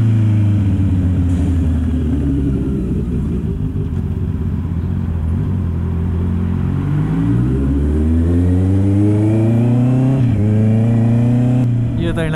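A Honda CB650R inline-four motorcycle engine on a night ride revs up and down through rising and falling pitch sweeps, loud and close throughout, with someone talking over it at times.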